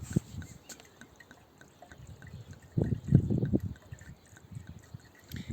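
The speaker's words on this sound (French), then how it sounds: "Vous pouvez mettre donc directement dans votre balai." Tap water poured from a container into the reservoir of an aluminium fluid mop, a soft irregular pouring and trickling that swells louder midway, close by and without talk.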